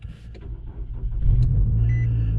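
A 2009 Nissan Altima 2.5S sedan is push-button started, the starter's brief whir giving way to a rising, somewhat loud engine rumble that settles into a steady idle close by.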